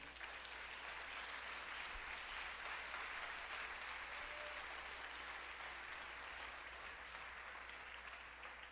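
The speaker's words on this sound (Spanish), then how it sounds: "Dele un aplauso al Rey." A large crowd at a church service claps in a dense, sustained wash of applause, even in loudness throughout, with no talking over it.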